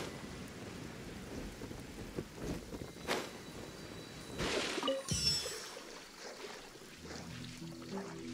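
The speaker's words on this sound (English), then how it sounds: "All the water that used to be here has turned into rain." Rain falling in the video game Genshin Impact, a steady moderate hiss of rainfall with a low rumble like distant thunder, a few louder swells midway, and low musical tones entering near the end.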